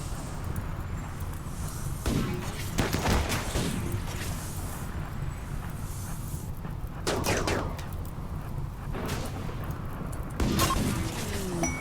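Bursts of gunfire in the RimWorld video game during a raid, rapid volleys of shots crackling in several close clusters with brief lulls between them.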